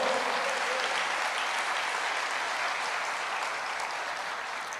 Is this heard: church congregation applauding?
yes